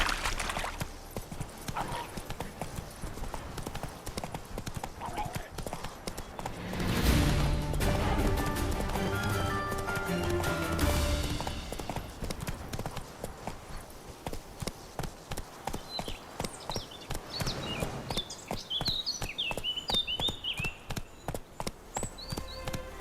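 Roach, the horse in The Witcher 3: Wild Hunt, hammers out a fast, steady run of hoofbeats that lasts throughout, partly masked by a louder rushing burst in the middle.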